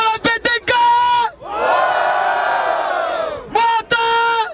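Crowd at a Brazilian rap battle in Barueri, São Paulo roars and shouts in a loud sustained surge, with chanted bursts of voices before and after.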